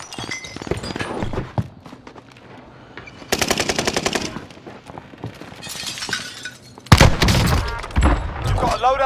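Bursts of video game gunfire crackle through a battle royale match, with rapid automatic fire, sharp single shots and a loud close volley near the end, mixed with game voice callouts and effects.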